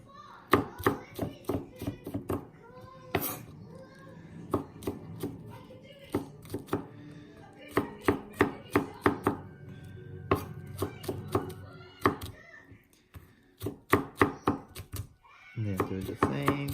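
A knife chops garlic on a cutting board in quick, sharp, rhythmic taps, coming in clustered bursts with short pauses, close and clear.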